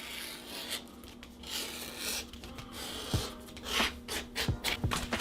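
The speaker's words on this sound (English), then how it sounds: "This is some 6-ounce veg tan leather. I'm using a 0 edger on it right now." A 0 edger beveling the edge of 6-ounce veg tan leather gives quiet, short scraping strokes that quicken toward the end, close-up and soft.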